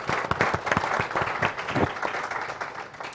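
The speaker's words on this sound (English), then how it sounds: "if we could do a round of applause for everybody." A room of attendees at a public briefing on abrupt climate change impacts gives a round of applause, close and fairly loud with distinct overlapping claps throughout the short burst.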